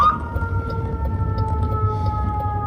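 A steady wailing emergency vehicle siren tone drones on through the whole stretch over a low rumbling background, sounding somewhat distant, on a drive from Tucson to Los Angeles, USA.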